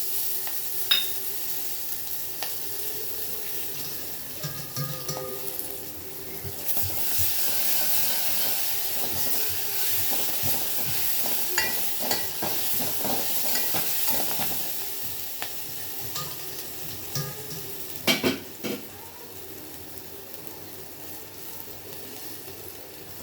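Green chilies and curry leaves sizzle in hot ghee for a simple kadhi, a continuous moderate hiss with scattered pops and crackles throughout, a louder burst early on and sharp spits near the end.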